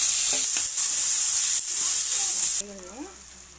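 Onions and tomatoes sizzling loudly in a pan, a bright steady hiss with stirring scrapes that cuts off sharply near the end, leaving a quieter sizzle under a voice speaking.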